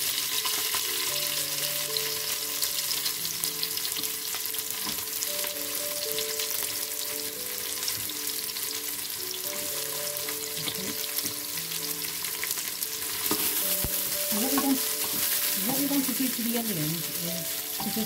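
Onions fry in hot oil for a cauliflower and lamb curry, giving a steady, close sizzle with occasional stirring scrapes, while a person speaks softly over the cooking.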